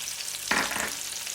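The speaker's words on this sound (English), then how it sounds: "And now we're going to add in the garlic ginger paste." Garlic ginger paste drops into a hot pan for a Mauritian lamb curry, giving a sudden, close sizzling burst that settles into a steady frying hiss.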